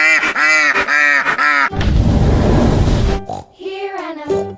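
Animated ducks quack in a children's Old MacDonald farm song, a run of bright rhythmic quacks followed by a hissing noise burst and more squawking calls.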